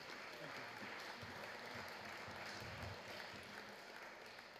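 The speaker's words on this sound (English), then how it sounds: "A round of applause for him." A festival crowd applauds an electronic musician at a live-streamed Lost Map event, giving a sustained, even wash of clapping with a low rumble of crowd noise underneath.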